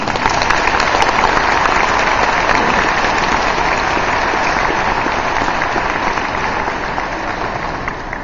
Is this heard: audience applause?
yes